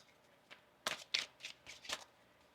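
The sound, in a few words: shuffling tarot cards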